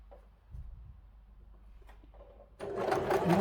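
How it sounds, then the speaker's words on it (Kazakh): A sewing machine stitching fabric, quiet handling at first, then a loud steady whir of rapid stitching kicks in for the last second. "Осылай тігіп шығамыз. Тігіп шықтым."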